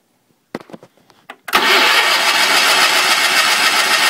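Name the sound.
1974 Sears Suburban SS16 tractor engine starting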